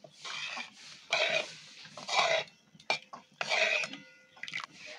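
Cardamom being stirred into hot sugar syrup for jalebi, several bursts of scraping and swishing in a metal pot at a steady pace with brief pauses between strokes, close up.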